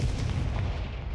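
A Confringo fire spell blast in Hogwarts Legacy: a deep, booming explosive burst with heavy low rumble, loud and sustained briefly before tailing off.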